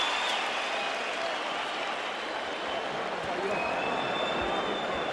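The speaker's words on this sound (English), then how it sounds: "And the crowd appreciates both." Boxing arena crowd applauding and cheering at a championship fight, a dense, steady roar of clapping and voices filling the whole stretch without letting up.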